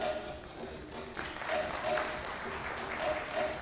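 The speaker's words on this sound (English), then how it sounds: "Let the echo of the applause not stop" Applause fills a conference hall after a panel discussion at a Kolkata cybersecurity event, a continuous wash of clapping at moderate distance with some voices faintly audible beneath it.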